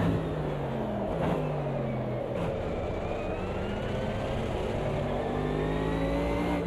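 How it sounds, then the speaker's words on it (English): Race car engine in the Automobilista 2 sim racing game revs hard and continuously, pitch climbing and dropping through gear changes, steady and fairly clear with no talk. "You can hear from the engine sound as well, the grip level, as the engine fights with the grip."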